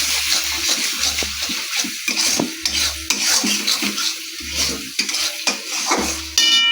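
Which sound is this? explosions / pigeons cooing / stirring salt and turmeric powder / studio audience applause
stirring salt and turmeric powder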